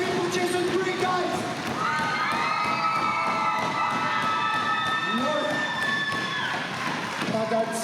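A crowd at an NWC deathmatch wrestling event cheers and shouts loudly and continuously for wrestler Jason Gray, with whistles and an announcer's voice rising over the roar.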